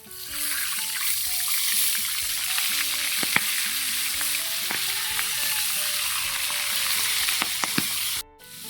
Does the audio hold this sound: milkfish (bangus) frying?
yes